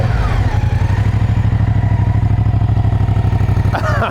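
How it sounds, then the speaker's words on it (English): A 2024 Moto Guzzi Stelvio motorcycle idling close by, its engine giving a steady, loud, rhythmic low thrum with a fast regular pulse that holds unbroken throughout, and a brief clatter near the end. "Let's start this thing up and just listen to this thing idle"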